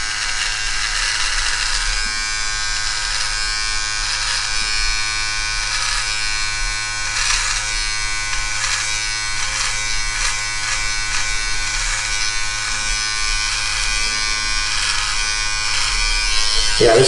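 A Philips Norelco Multigroomer Series 3000 electric trimmer buzzes steadily and close for the whole stretch, its tone shifting slightly as it is pressed against facial hair.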